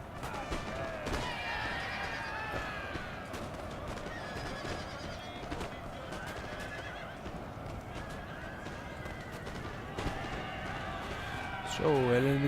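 Cavalry horses charge and neigh on a Napoleonic battlefield in the video game Napoleon: Total War, a continuous clatter of hooves with repeated whinnies over battle din, and a voice talking throughout.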